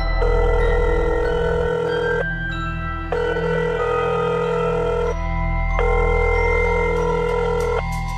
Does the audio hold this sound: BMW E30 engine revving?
no